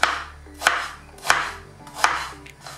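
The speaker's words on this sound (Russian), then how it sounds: "нарезать можете как хотите. Я вот такими кубиками." Four sharp knife strikes on a cutting board cutting lamb into cubes, evenly spaced about two-thirds of a second apart, close and crisp with a faint hum beneath.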